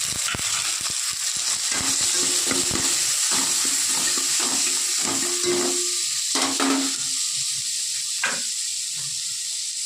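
Chopped tomatoes hitting a pan of softened onions and masala set off a loud, steady sizzle and hiss, with scattered clinks and scraping stirs throughout.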